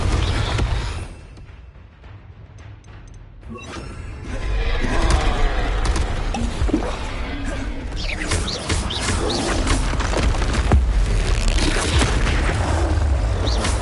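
Loud spell explosions from the Confringo curse in a Harry Potter video game, booming blasts and crashing debris layered over continuous game noise for the whole stretch, quieter near the start then sustained and dense.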